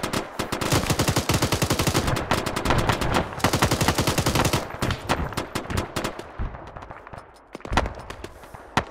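Rapid machine gun bursts from a turret in a military combat game, loud and sustained for several seconds, then thinning into scattered shots and sharper single cracks with brief gaps.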